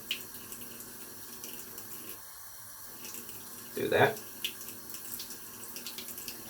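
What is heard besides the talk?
bathroom sink tap running water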